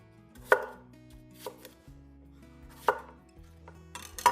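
Apples roughly chopped with a knife on a cutting board, four or five separate sharp thuds spaced irregularly with quiet between.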